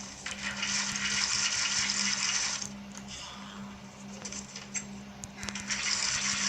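Water flows in the Minecraft video game as a well is drained, making a steady rushing, gushing wash that carries on throughout with a constant low hum beneath it and no voices.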